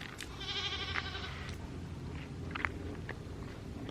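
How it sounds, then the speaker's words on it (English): Several goats bleat in bursts, one long wavering call followed by shorter cries, over a low rumbling background. "Oh boy, those goats."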